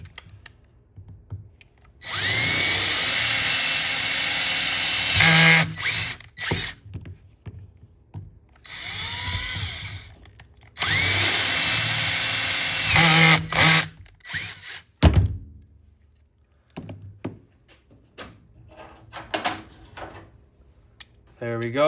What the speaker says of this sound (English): we're going to go ahead and drill those out